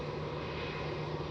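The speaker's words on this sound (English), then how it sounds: "We've got Velocity coming to land" A Velocity (Virgin Australia) airliner coming in to land at Melbourne Airport, a steady, broad engine roar with a low hum, holding constant and fairly close throughout without any voices.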